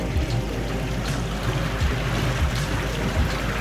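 A Highfield 860 RIB boat running slowly at 2 to 3 knots, a low outboard rumble with water sloshing and lapping against the hull close by.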